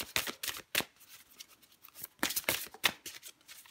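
Tarot cards are shuffled and drawn by hand, giving quiet riffling bursts in two clusters with short pauses between them, close and soft with no talking.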